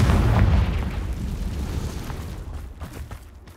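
A Confringo blasting spell bursts in Hogwarts Legacy during a troll boss fight in the woods, one heavy booming explosion that decays into a rumbling tail.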